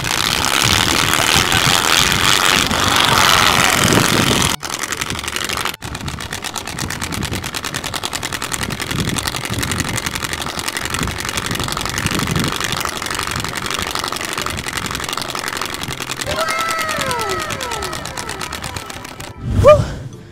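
A loud, continuous mechanical engine-like roar with rapid popping pulses from a bicycle exhaust device imitating a motorcycle engine, revving steadily, briefly cut off, then ending with a sharp burst.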